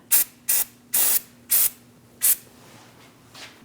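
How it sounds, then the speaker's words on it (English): Five short bursts of anti-seize aerosol spray hiss in quick succession, close and loud, followed by a couple of fainter sprays, during a front brake job on a Mini Cooper. "Once that's dry, you can add some anti-seize. I'm using the spray kind."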